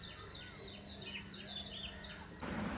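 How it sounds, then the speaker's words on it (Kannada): Birds call on a quiet morning outdoors, with faint, distant chirps and short trilling phrases repeating over a soft background hush, and a muffled rustle at the very end. "ಪಕ್ಷಿಗಳ ಕೂಗು ಅಷ್ಟೇ ಚೆನ್ನಾಗಿದೆ."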